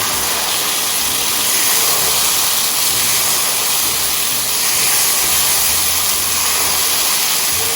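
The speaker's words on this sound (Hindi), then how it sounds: "थोड़ा थोड़ा करके डालें इसको और भूनते हैं" Spice paste for chicken yakhni frying in hot oil, a steady loud sizzling hiss that runs without break, with no talk over it.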